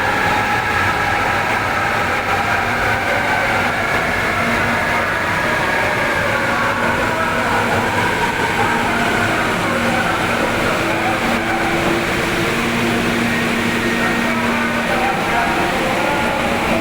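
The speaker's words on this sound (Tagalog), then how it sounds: "At dumating na nga ang tren na ating inaabangan." An MRT train rumbles into a station, with a steady low drone and brakes hissing and squealing faintly, over a busy crowd murmur.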